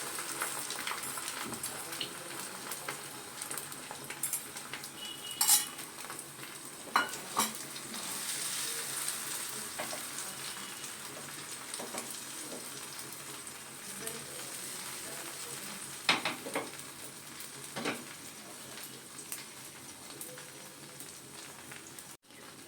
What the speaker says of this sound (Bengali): ডিমটা ভালো করে ছেড়ে দিচ্ছি প্যানে আস্তে করে।